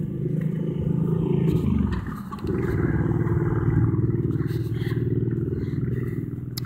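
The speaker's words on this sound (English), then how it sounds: "Motorcycle came my way." A motorcycle passes nearby outdoors, a steady loud engine drone that dips briefly before swelling again as it goes by, with no talking over it.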